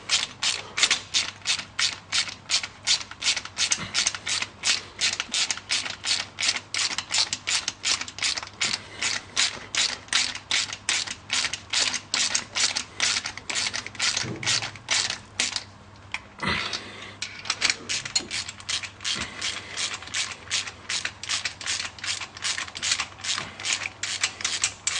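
A ratchet clicks in fast, even bursts while tightening bolts on the cylinder head of a 351 Cleveland V8 in an XC Falcon Coupe, close and sharp, with a brief pause in the rhythm partway through.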